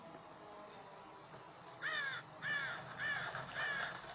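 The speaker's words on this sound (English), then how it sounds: "There's a crow." A crow in the One Piece anime gives four loud, hoarse caws in a steady rhythm after a quiet, faintly hissing start.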